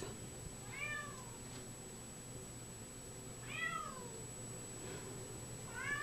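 A black cat at an animal shelter gives three drawn-out, wavering meows spaced a few seconds apart over steady background hum, moderately close and with no voices.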